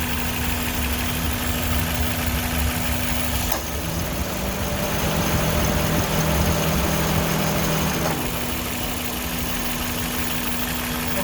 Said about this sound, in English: So let me turn the AC on and then take a look at the compressor.